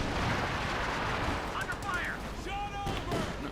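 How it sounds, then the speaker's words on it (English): Rifle and armored-car cannon fire from a Puma and Grenadier squads in the Company of Heroes 2 strategy game, a steady din of battle noise with scattered shots throughout, a commentator's voice talking over it. "Rifleman getting plastered with Puma and Grenadier fire."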